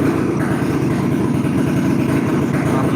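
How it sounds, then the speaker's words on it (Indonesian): Continuous rumbling engine noise from a group of motorcycles outside a house, a low motor drone with a slightly uneven throb, steady throughout with no voices. "Tadi ada motor komunitas di depan rumah, suaranya agak bising sedikit."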